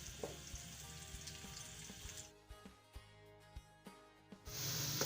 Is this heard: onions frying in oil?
yes